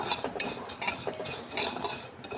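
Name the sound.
stirring sago pearls while dry-roasting them in a pan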